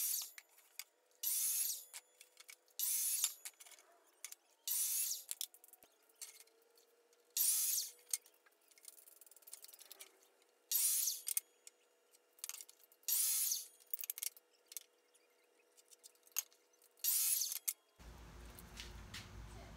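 Scrap wood strip being cut by hand for a stovetop cover, heard as a steady series of rasping, scraping strokes in short bursts with pauses between them; a brief different rumble comes in at the very end.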